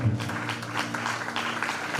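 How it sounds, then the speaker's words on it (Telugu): A congregation at a Telugu Christian sermon claps loudly and steadily, a dense wash of many hands filling the hall for about two seconds, with a low sustained hum beneath. "గట్టిగా చప్పట్లు కొట్టేసేనా మనం"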